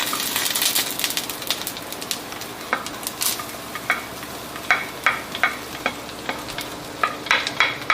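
Garlic sizzles in a pan on an induction cooktop as it is stirred, with a constant crackle and sharp scraping clicks from the utensil that come in quick bursts toward the end, close and clear with no voices.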